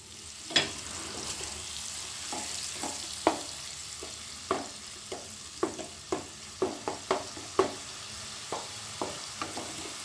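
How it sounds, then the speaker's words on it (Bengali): Oil sizzles steadily under a series of sharp scraping clacks as a spatula stirs onion paste in a pan, close up, with no voices. "পেঁয়াজটা যখন একটু ভাজা হয়ে যাবে"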